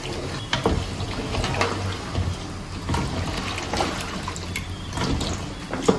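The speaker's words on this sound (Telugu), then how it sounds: "నేనైతే 2 లీటర్ వాటర్ వేసుకుంటున్నాను." Water pours steadily into a cooking pot of Hyderabadi mutton paya, a continuous splashing liquid sound with a few clinks and knocks, heard alone without talk.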